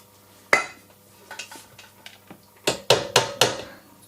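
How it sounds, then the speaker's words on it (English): Soap being mixed in a container gives a run of clinking, tapping utensil knocks. Scattered light taps come first, then a burst of four louder knocks near the end, with no talking. "So I'm just mixing up some more soap here"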